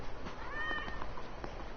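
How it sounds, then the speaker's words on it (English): A cat in the video game Yakuza 0 gives a short meow with a rising-falling pitch, then a couple of fainter mews, fairly close over soft background game ambience. "It's a kitty!"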